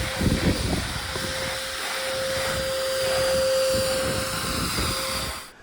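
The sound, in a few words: vacuum cleaner cleaning fire extinguisher dust in garage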